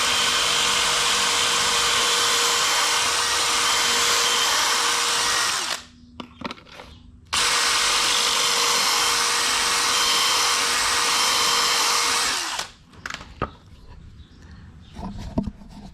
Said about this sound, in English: put my drill bit into the collar, start it when it's inside